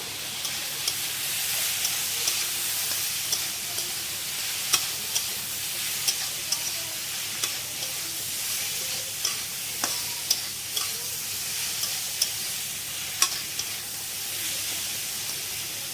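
Bottle gourd and poppy seed curry sizzling in a pan while a spoon stirs it, giving a steady frying hiss broken by regular, sharp scraping clicks close by, with no one talking.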